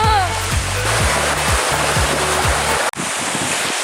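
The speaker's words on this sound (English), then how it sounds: "The waterfall." A colossal waterfall heard up close as a loud, continuous roaring rush of falling water, with brief low thumps and a sudden momentary dropout near the end.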